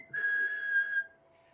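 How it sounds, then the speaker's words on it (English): Old-fashioned whistle at a baseball game, a single sustained steady tone lasting about a second, clear and fairly close over quiet crowd murmur. "You wanted the old-fashioned whistle."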